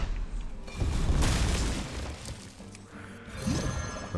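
A Hearthstone card effect destroys a minion: a loud booming burst with a shattering crash, swelling at about one second, then rumbling impacts and a second smaller burst near the end.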